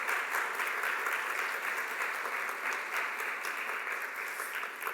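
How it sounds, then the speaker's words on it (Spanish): Steady applause fills a church as the congregation claps during a sermon, an even, sustained patter from many hands that continues without pause, moderately loud and slightly distant. "Eso amerita que usted le dé un aplauso a nuestro Señor Jesús."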